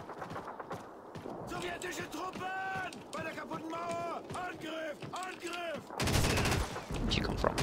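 High-caliber 7.62 gunfire in Call of Duty 2 crackles in scattered shots under someone talking, followed by a louder, dense burst of rapid fire near the end.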